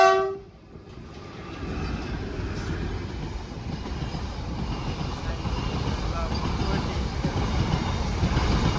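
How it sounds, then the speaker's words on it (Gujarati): A train rolls past on a rail line near Bhimrala, Gujarat, its steady rumble rising and holding close by with a brief horn-like tone at the start; no talk over it. "તો ટ્રેનનો આનંદ માણો જો કેવી જાય છે."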